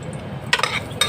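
Garlic dropped into hot cooking oil for a home-cooked pakbet with alamang, giving two short, bright sizzling bursts over a low kitchen hum.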